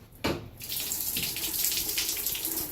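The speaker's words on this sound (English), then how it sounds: "I started the waterfall again." Water pours steadily from a homemade waterfall, a continuous splashing hiss that starts abruptly and runs close and fairly quiet for a few seconds, with no talk.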